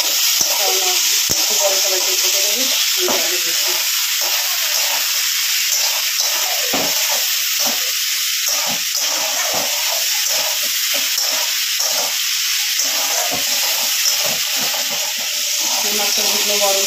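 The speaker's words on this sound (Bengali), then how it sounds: "মাছটা ঢুকলো গরমে" Fish frying in hot oil produces a loud, dense, continuous sizzle and spitting hiss from close by, dotted with crackles and pops throughout, with no voices.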